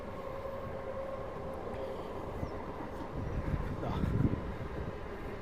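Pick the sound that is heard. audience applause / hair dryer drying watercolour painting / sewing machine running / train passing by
train passing by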